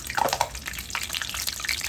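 Fried lentil dumplings for Lahori dahi bhallay drop into a pan of water with soft splashes and gentle bubbling, close and fairly quiet, over a couple of seconds.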